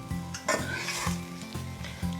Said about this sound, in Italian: Quando poi sentirete nuovamente uno sfrigolio e si formerà una patina